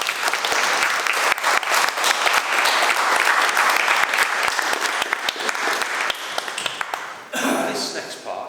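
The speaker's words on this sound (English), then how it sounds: "I think it would be appropriate to have a huge round of applause for that." Wedding guests at Lartington Hall burst into sustained, dense applause during a speech, with sharp individual claps standing out before it tapers and a voice begins speaking.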